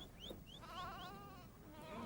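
Sheep bleat on a farm in the Great Karoo, several short wavering calls overlapping at moderate distance over a low steady background, with no voices.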